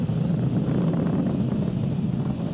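Falcon 9 rocket engines roar steadily through supersonic ascent toward Max Q, a dense, continuous low rumble with a windy, distant edge and no breaks.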